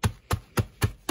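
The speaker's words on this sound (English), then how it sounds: "I'm beating the crackers for the meat." Crackers are beaten and crushed for chicken fried steak breading, making five evenly spaced, thudding blows in quick succession at close range, with no voices.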